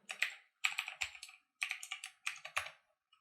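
Bursts of clicky keystrokes on a computer keyboard while typing in a password at a Windows login, tapped in four quick clusters separated by short pauses, close and fairly quiet, with no voices.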